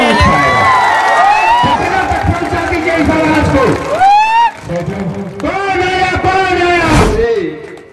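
A political rally crowd welcoming Chirag Paswan erupts in loud shouts and whoops over clapping, many overlapping voices rising and falling close by, with a brief lull partway through before the cheering surges again.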